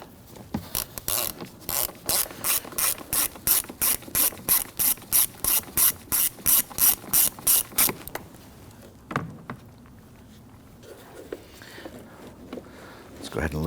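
A hand ratchet loosens screws on a 2009-2017 Volvo XC60 during an air filter replacement, with a fast run of loud, regular clicks for about eight seconds, then quieter scattered mechanical knocks and handling.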